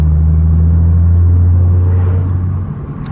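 A 2014 Ford Mustang fitted with a Roush axleback exhaust rumbles loudly and deeply inside a tunnel, holding a heavy, droning engine note close by before it eases off near the end.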